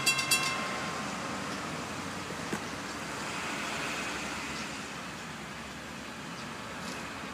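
A long, steady rumble of an FEC freight train passing a crossing near Gifford, broad and continuous, with a faint crossing-bell ringing early on, holding at moderate loudness throughout.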